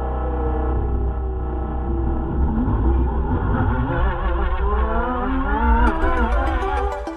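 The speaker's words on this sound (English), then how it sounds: "instead of the racing sound that we got used to, you only hear a light howling" Volkswagen I.D. R electric racing car drives past with a light howling whine over low road rumble, the tone rising and sliding in pitch as it accelerates, with no voices.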